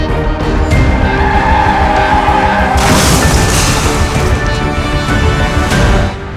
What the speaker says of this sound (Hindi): कार और बाइक में भीषण टक्कर हो गई।